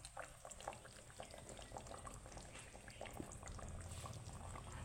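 A vegetarian dish bubbles in a covered pot in a quiet, even simmer, with soft continuous burbling and small pops close by, and no one speaking.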